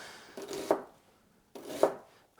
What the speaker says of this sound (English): I'm just cutting up an onion nice and fine for the coleslaw